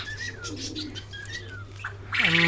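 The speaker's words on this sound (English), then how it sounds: "These are young birds of fantail" Young white fantail pigeons coo in low, soft bursts with a few brighter calls, then a louder, fuller coo near the end, heard close by with no talking.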